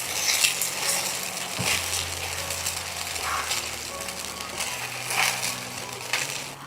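Soaked semolina being stirred into melted sugar in a pan gives a steady wet sizzle with scraping and crunching from the spoon, close and continuous throughout.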